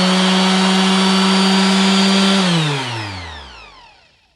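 A Makita BO5030 5-inch (125 mm) random orbit sander runs with a loud, steady motor whine, then switches off and winds down, its pitch falling over about two seconds.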